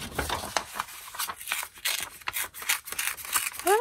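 Scissors snip through music paper in a series of close, crisp cuts and rustles at an uneven pace, with no talking.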